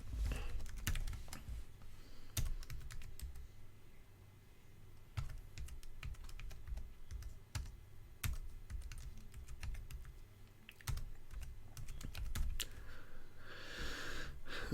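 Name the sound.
typing a command on a computer keyboard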